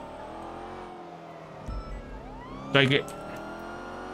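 A car in a driving video game spins out with tire and engine noise, a steady engine drone under a brief loud burst of revving and skidding, while a voice speaks over it.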